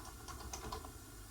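Quiet, soft typing on a computer keyboard while writing in MS Word, a quick run of light key taps close by.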